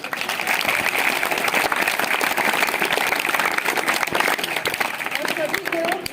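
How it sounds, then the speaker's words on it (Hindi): Lively audience applause for two winners, dense rapid clapping sustained and fairly loud throughout, with faint voices mixed in underneath. "हमारे दोनों हासिल के लिए बढ़िया सी ताली बजा दो"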